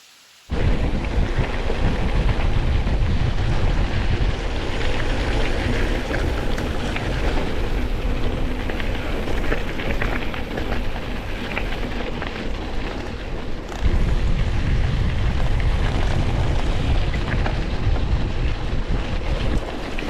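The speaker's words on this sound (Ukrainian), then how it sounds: "Водоспад Кізя." The Kizya waterfall roars with a constant, loud, dense wash of falling water, heard up close. Wind buffets the microphone, and a brief shift in level comes partway through.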